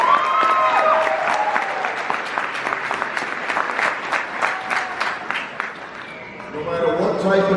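Audience applause at a city graduation ceremony for the class of 2023, a dense steady wash of clapping with some voices mixed in, fading slightly before a speaker's voice returns near the end.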